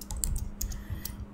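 Someone types PHP code on a computer keyboard, a quick, irregular burst of crisp key clicks heard up close, with no speech.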